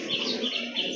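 A pair of fancy pigeons cooing at close range, soft throaty calls repeating in quick succession over a brief moment with no talk.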